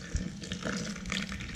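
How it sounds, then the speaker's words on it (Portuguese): Water running from a tap into a baby bottle, a steady close hiss and splash of filling liquid lasting a moment without any talking. "Tem aqui a mamadeira dela, eu encho d'água."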